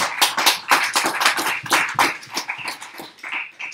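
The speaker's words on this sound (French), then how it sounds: "Applaudissez-moi Jésus-Christ." A church congregation claps during a sermon, with a loose burst of sharp, separate handclaps of uneven rhythm that gradually thin out toward the end, close and fairly loud.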